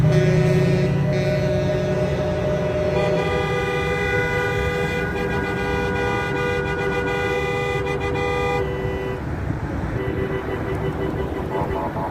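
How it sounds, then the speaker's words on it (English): Vehicle horns honk repeatedly and overlap in sustained blasts at a convoy gathering in Nashville, with several tones sounding together over traffic rumble, some cutting off and restarting, loud and close. "Big old honk for Hippie Mama and all the other organizers out there"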